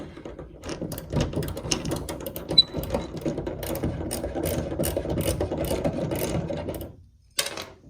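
A ratchet wrench with a 3/8 inch socket loosens a nut beneath a Northstar canoe seat. Rapid mechanical clicking runs close and steady for about seven seconds, then stops briefly before one last short burst. No one speaks.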